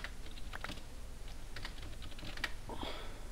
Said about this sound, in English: How are you typing in Skype but mining at the same time?